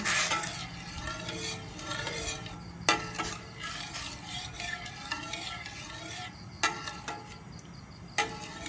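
Curry paste being stirred into hot coconut cream in a pan, giving a continuous bubbling sizzle broken by a few sharp clacks of the utensil against the pan.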